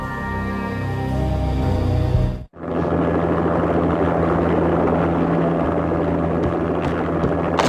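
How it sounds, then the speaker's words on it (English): Deep, continuous rotor and engine drone of an armed helicopter landing on manor grounds in the Max Payne video game, loud and steady, briefly cut by a sharp dropout before the hum resumes. "An armed helicopter just landed on the manor grounds."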